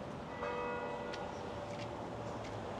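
Church bells in Kyiv on Lavrska Street ring out the seven o'clock evening hour from two neighbouring churches, a few resonant strikes carrying over steady outdoor city noise.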